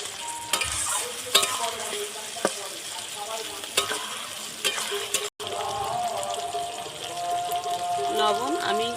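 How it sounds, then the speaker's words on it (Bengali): Garlic and ginger paste frying and being stirred for a mutton curry, a steady close sizzle with repeated sharp scrapes of the spoon against the pan and a brief cut midway. "রসুন বাটা আদা বাটা এগুলো একটু ভালো করে কষিয়ে নেব"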